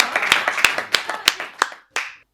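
Hands clap to welcome poet Prakhar Pandey on stage at a Hindi poetry recital. The claps are sparse and distinct, each one sharp and close, in a loose rhythm that trails off after a short pause.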